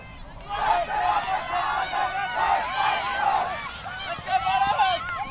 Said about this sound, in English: That was Austria with their end of game cheer.